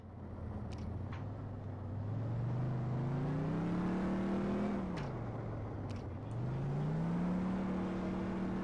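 Rear-wheel-drive American car in Rigs of Rods with a steady droning engine whose pitch rises as it accelerates, drops briefly, then climbs again. The engine plays alone, with faint clicks over it.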